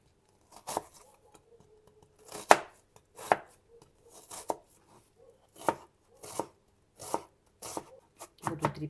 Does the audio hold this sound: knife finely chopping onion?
yes